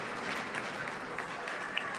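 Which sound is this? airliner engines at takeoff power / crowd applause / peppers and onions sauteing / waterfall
crowd applause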